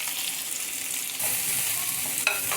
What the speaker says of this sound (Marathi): एक मोठ्या आकाराचा कांदा असा स्लाइसमध्ये कट केलेला आपल्याला छान गोल्डन ब्राऊन होईपर्यंत फ्राय करून घ्यायचा आहे